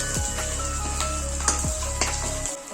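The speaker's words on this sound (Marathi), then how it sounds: "तर आता मी कढीपत्ता घालतो याच्यात" Curry leaves crackle in hot oil for spicy Kolhapuri misal, a close, loud sizzle broken by a few sharp spatula scrapes against the pan before it quiets at the end.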